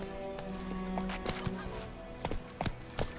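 Roach the horse from The Witcher 3: Wild Hunt clops along with steady hoofbeats under a layer of game ambience and music, the hooves landing in an uneven walking rhythm.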